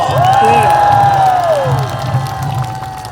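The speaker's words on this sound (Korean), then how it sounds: "다시 한번 뜨거운 박수로 맞아주시기 바랍니다." Crowd at an outdoor political rally in Daegu cheering and clapping, a loud mass of voices with a rising shout or whistle over it, fading slightly toward the end.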